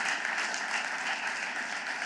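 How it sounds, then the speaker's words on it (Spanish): A church congregation applauds during a service, a dense, steady wash of many hands clapping together, fairly close and sustained without a break. "Le da ese aplauso sonoro."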